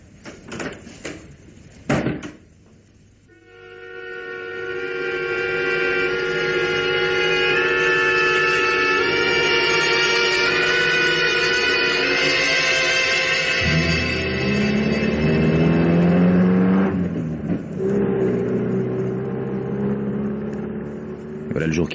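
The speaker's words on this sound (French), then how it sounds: "Toi, va au garage et sors ta voiture. Tu approcheras de la porte en marche arrière." A car engine starts and idles steadily for a long stretch, then its pitch shifts as the car reverses out of a garage toward a door in a French radio drama, with door clunks before and after and voices speaking briefly.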